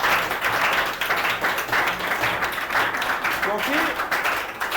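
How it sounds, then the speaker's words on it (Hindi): Students clap to celebrate a classmate's tenth-grade exam result, a loud continuous round of applause in a hall with a voice speaking briefly over it. "अब इसके लिए सबसे ज्यादा तालियां होनी चाहिए,"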